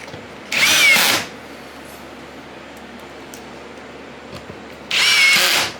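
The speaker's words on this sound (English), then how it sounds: "Now I'll pull this one out and re-drill the hole and put it back in." A power drill drives screws into an oak strip on a table saw sled in two loud, close bursts of about half a second each, separated by several seconds of quiet room tone.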